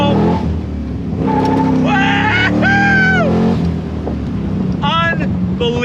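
A 1965 Corvette Stingray restomod roaring under throttle as it accelerates, a loud sustained engine drone with rising gear pulls, mixed with wind noise and someone talking over it.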